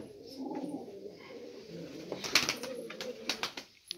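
Pigeons in a well-ventilated pigeon loft coo softly and steadily close by, with a few sharper flutters and wing sounds near the end, and no talking.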